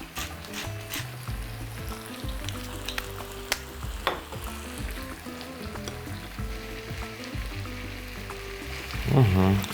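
Ingredients for pork neck in sweet-and-sour sauce fry in a pan with a steady close sizzle and occasional stirring scrapes, under a low background hum; a brief pouring splash rises at the very end.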